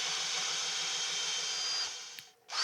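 A 120 grit 70mm sanding arbor works the surface of a pyrographed wooden plate, giving a steady, close-up, hissing whir that cuts off abruptly near the end.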